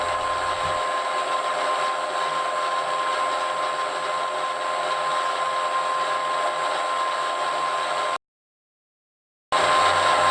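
A Pollard drill running under power feed produces a steady mechanical whine and hum at an even level, broken by a brief silent gap before resuming.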